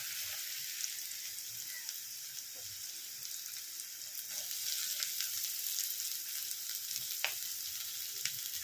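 Fried rice with carrots and beans sizzles in a pan, a continuous bright hiss that stays close and even, with a few faint stirring knocks.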